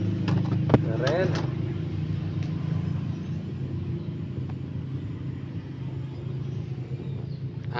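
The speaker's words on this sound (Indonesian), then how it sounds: "Ada mobil truk tambang." A mining truck rolls past on a road, a steady low engine rumble and tyre noise held at a moderate distance, with a brief sharp knock near the start.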